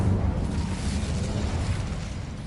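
A fiery whoosh-burst from the Incendio spell in Hogwarts Legacy, a short broad rushing roar that holds at moderate level for a couple of seconds, with no voices over it.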